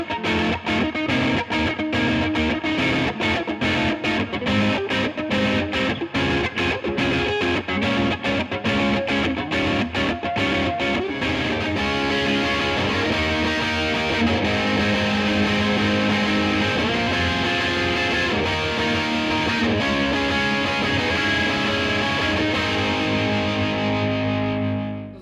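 Heavily distorted Jazzmaster electric guitar through a high-gain Blackstar Studio 10 KT-88 tube amp, chugging rhythmic chords at first and then sustained ringing chords and riffs, loud and continuous.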